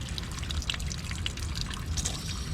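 Water trickles and dribbles from a spigot vacuum breaker, a soft, uneven stream with scattered small drips over a low background rumble, close and fairly quiet.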